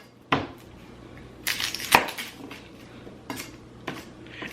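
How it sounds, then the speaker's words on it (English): A knife cuts an onion on a kitchen board, making a few sharp, separate chops and taps at irregular intervals over a quiet background hum. "Now we're going to cut our onion."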